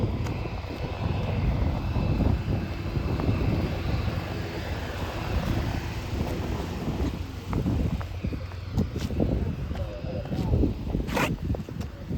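Airliner landing at Charlotte airport, heard as a continuous broad jet roar lasting throughout, with voices talking over it.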